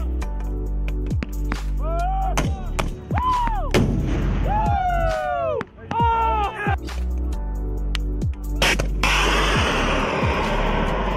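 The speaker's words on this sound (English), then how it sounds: "These military officials are firing these test missiles." Military test missiles being launched outdoors: a series of loud thumping blasts and whooshes with rising and falling whistling tones, ending in a roaring rush of launch exhaust.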